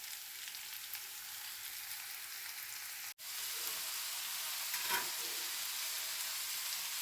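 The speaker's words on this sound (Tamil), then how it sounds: "மீன் வறுபட்டுடுச்சு பாருங்கள் நல்லா." Fish (koduva) frying with garlic in a pan, a faint continuous sizzle and crackle with a brief dropout partway, then a small stir or turn.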